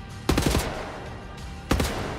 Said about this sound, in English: Wow, the fucking bullets are destroying through the concrete there